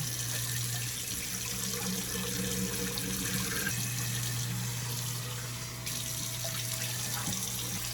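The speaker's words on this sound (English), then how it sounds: "Turning the water on, turning the garbage disposal on, and then just carefully draining." Water runs steadily from a kitchen sink faucet while a garbage disposal drains, a constant splashing hiss over a low mechanical hum, close and unbroken, with no talking.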